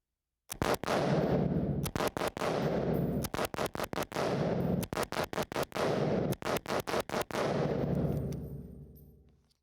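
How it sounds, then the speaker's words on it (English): Unsuppressed IWI Tavor 7 bullpup rifle shots at a range, loud sharp cracks fired one at a time, then in quick bursts of three or four, each ringing out into a short echo that fades at the end. "For the first couple of shots, I'm just going to get used to the trigger."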